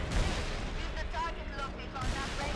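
Gunfire and explosions in the video game Halo Reach, dense booming shots and rumbling blasts continuous throughout, loud and close, with people talking over them.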